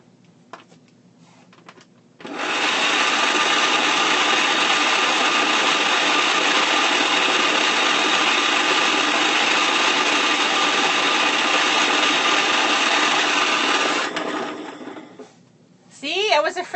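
Small electric spin art machine whirring at a steady, loud pitch for about twelve seconds after switching on, then winding down, with brief talking before and after.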